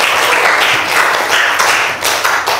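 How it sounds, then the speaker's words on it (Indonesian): A classroom applauding a student, a brief burst of dense clapping from many hands, fairly loud and close, steady with slight swells. "Tepuk tangan buat Alice."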